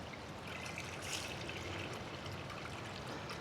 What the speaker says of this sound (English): we just go add some water, guys, to the pot